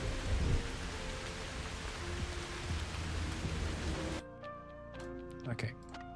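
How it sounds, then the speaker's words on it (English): Rain ambience from a video game in development hisses steadily and densely for about four seconds with no thunder, then cuts off abruptly to quieter tones, with a voice faintly present. "we're hearing the rain, but no thunder."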